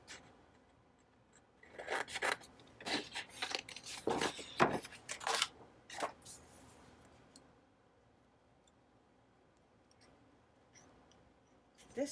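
Scissors cutting a small paper candle shape out of a planner page, heard as a quiet cluster of close snips and paper rustles in the middle, with near silence before and after.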